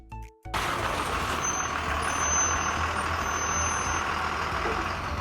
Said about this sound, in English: What vehicle makes this sound? That's right, a bus.